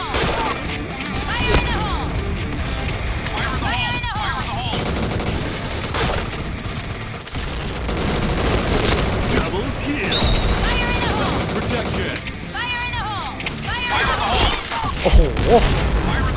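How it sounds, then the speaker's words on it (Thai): Rapid gunfire from the first-person shooter Point Blank crackles repeatedly in bursts, loud and close, mixed with game effects and players talking over the action. "ผมโดนปืนนั้นยิงหัวเลย"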